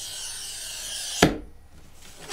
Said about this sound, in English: Listen to your glass cutter, everybody.